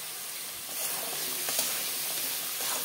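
Boiled chickpeas fry in a spice masala of ginger-garlic paste and tomato, cooked in mutton fat, while being stirred. There is a steady, close hiss and sizzle with occasional soft scraping from the stirring.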